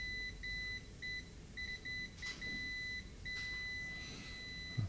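Quiet, repeated electronic beeps in short bursts while an iPhone 11 logic board is probed with a multimeter during repair, a steady tone pulsing on and off over a soft background hiss.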